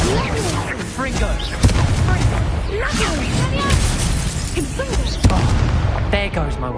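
Fiery blasts from the Confringo spell in the game Hogwarts Legacy, a few sharp booms breaking through a dense, constant wash of combat effects and music, with voices speaking over the action.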